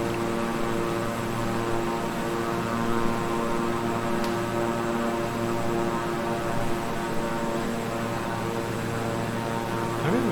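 A King Air 350i twin-engine turboprop in Microsoft Flight Simulator drones steadily in flight, a constant loud propeller and engine hum with layered tones that holds unchanged throughout, no voices.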